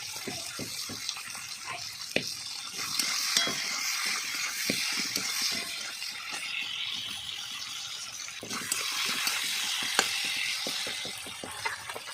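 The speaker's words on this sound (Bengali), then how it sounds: "আর এটা এখন আমি ভালো করে ভেজে নেবো।" Food fries in a pan with a steady, fairly loud hissing sizzle, while a spatula scrapes and taps at a rough, irregular pace.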